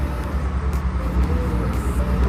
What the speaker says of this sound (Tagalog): sobrang busy ng road. Grabe, ang daming sasakyan, lalo ng mga trucks.